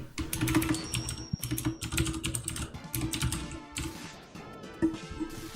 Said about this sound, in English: Praise mechanical keyboards